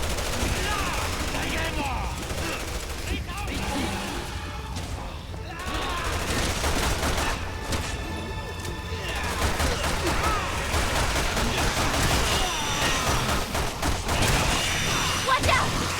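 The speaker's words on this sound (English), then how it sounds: "Someone's shooting at us!" Continuous heavy gunfire and bursts of automatic shooting fill a chaotic combat scene in the video game Resident Evil 6, with game voices and effects mixed into the dense, loud barrage.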